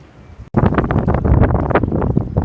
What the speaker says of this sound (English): the weather's taken a turn for the worst, a bit windy and rainy